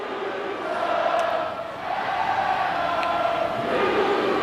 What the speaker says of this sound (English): you hear the hooligans trying to cheer their team on